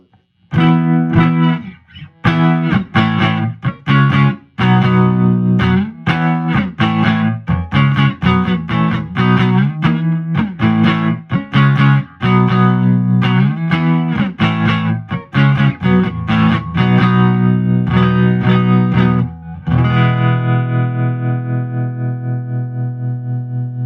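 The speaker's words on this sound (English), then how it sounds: "Reverb off, tremolo on." An electric guitar played through a 1964 Princeton Reverb amp, strummed chords and single notes with a pulsing tremolo, closing on a sustained chord that fades slowly.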